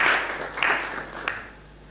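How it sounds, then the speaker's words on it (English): Audience at a credit union's annual general meeting gives a short round of applause to welcome a speaker, a brief burst of hand clapping that quickly tapers off into quiet. "Let's welcome him with a round of applause"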